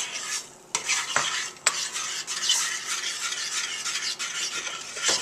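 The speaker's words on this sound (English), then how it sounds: "So I'm just going to stir it in" Spoon stirring cornstarch into hot custard in a pot off the heat, a steady close scraping and swishing with a few sharp clinks against the pot rim.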